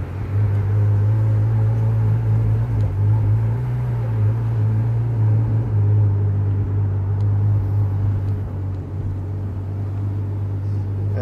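A Ferrari GTC4 Lusso engine gets a little throttle as the car pulls away, a steady deep rumble that swells only slightly, heard from inside and continuous throughout.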